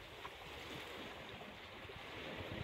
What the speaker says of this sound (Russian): волны плещутся о берег